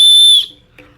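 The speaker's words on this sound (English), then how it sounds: "However, they now integrate this whistle in here as well." A safety whistle built into the strap of a Petzl Actik headlamp gives one loud, shrill, steady blast that lasts under half a second, close to the mic, then cuts off into near silence.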